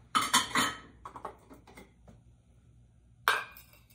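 Ceramic plates and a white bowl clink and clatter as they are stacked and handled, with a few quick knocks at the start, softer taps after, and one more sharp clink near the end, close and fairly loud.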